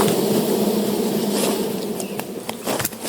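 Honeybees swarm around a fallen, heavy beehive being smoked by a beekeeper, producing a dense, steady, close buzzing hum that fills the whole stretch without pause.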